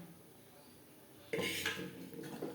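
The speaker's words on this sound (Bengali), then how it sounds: "মশলার সাথে মটর আরও 3-4 মিনিট বেশ ভালো করে নাড়াচাড়া করে নেব" Soaked peas with spices are stirred in a pan for ghugni, a spoon scraping and clinking against the metal after a quiet start, close and moderately loud.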